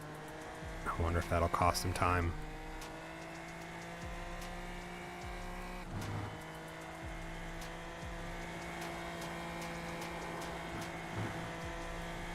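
A video game race car engine drones steadily with changing pitch as understeering tires scrub and squeal through a corner at Barcelona-Catalunya, while a commentator talks over it.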